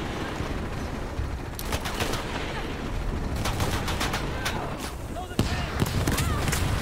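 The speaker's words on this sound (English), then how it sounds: "Pilot in forward position, opening fire." Heavy helicopter machine gun fire in the video game Shadow of the Tomb Raider, dense crackling bursts running throughout over a loud, steady rumble, with a sharper impact near the end.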